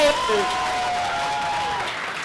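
Audience at a live staged performance clapping together, a steady dense wash of applause holding at even loudness throughout.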